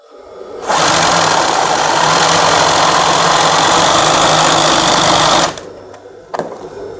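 An embroidery machine with a needle fault runs at speed, a loud, even mechanical whir and rapid needle chatter lasting about five seconds before it stops, followed by a faint click.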